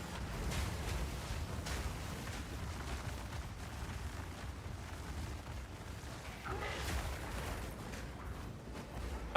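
Oil Barrage skill from a Bear Druid in Path of Exile 2 rumbles as heavy, continuous bursts of booming impacts, with a louder swell near the end.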